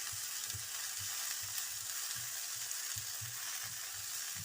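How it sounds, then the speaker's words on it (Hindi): Carrots and capsicum frying in a pan, a continuous hiss of sizzling oil with soft, regular low scraping strokes from stirring, close and steady. "ये मैं जल्दी से गाजर डाल दूँ और शिमला मिर्च, इनको डाल के मैं थोड़ा सा फ्राई करती हूँ"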